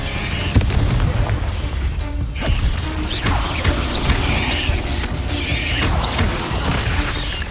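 Confringo spell blasts in the video game Hogwarts Legacy: repeated fiery bursts and crackling impacts over a continuous low rumble of combat, loud and close, with no talking.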